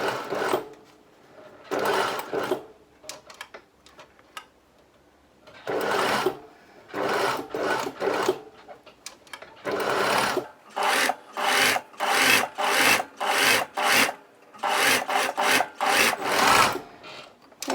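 Sewing machine stitching fabric ties onto a headband, running in repeated bursts of steady whirring stitches with short pauses between, close and fairly loud, with no talking.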